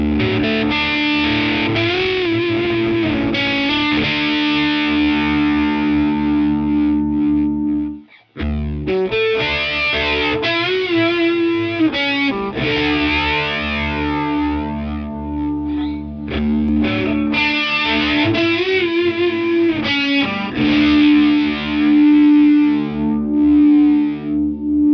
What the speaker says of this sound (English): we've got two chorus modes, which take that delay and add a little bit of swirl into the mix